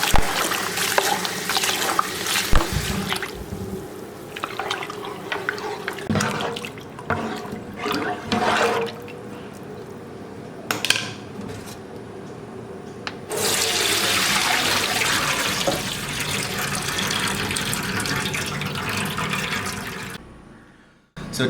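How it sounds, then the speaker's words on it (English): Water from cooked rice pours and splashes into a sink in uneven gushes, followed by a long, steady stream of running water that stops abruptly at the end. "After 10 minutes, the rice is done. We now have to drain it."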